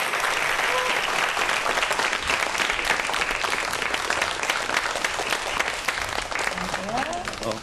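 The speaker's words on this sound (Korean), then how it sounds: "박수 부탁드립니다." Steady, dense applause from a lecture audience as a professor walks onto the stage, sustained throughout at moderate distance with a faint voice emerging near the end.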